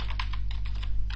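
Quick keystrokes on a computer keyboard click in a short, even run over a low steady hum, close and fairly quiet.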